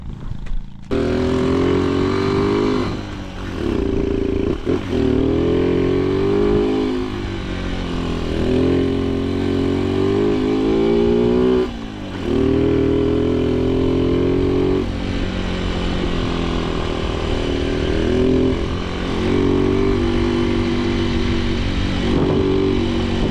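A loud, continuous motorcycle engine drone with a steady harmonic hum that rises and falls in pitch as it revs, running the whole time with no talking.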